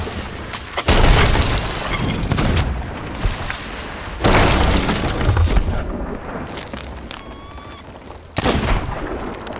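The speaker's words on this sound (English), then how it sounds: "They're dropping fire bombs." Fire bombs explode in an online shooter game, with three heavy, roaring blasts spaced several seconds apart, each followed by crackling, burning rumble.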